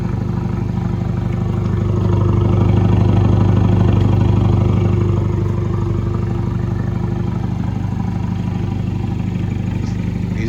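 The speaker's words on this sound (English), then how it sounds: "this is idle after I warm up" A 2019 Ford Ranger with an SPD downpipe and Borla catback exhaust idles warm, a steady deep rumbling drone held close and loud throughout with no revving.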